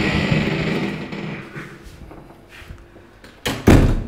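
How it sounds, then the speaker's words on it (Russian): A hotel room door on the fourth floor of a Marmaris hotel, opened with a magnetic key card, gives soft handling noises and faint clicks, then a sharp latch clack and a louder thud of the door moving near the end. "Открывается он магнитным ключом."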